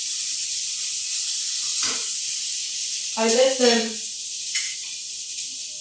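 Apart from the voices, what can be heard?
slices sizzling in a warmed non-stick pan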